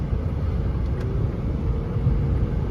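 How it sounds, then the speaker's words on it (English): Low steady cabin rumble of a 2009 Mazda5 compact wagon driving on the interstate, continuous road and engine drone heard from inside with no talking. "getting it on the interstate and taking it for its first little drive"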